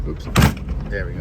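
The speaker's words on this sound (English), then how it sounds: "I've got the hatch up right now." Rear hatch of a 1948 Mercury woody with deteriorating wood swinging open, giving one brief mechanical clunk amid steady background noise, with a voice talking faintly nearby.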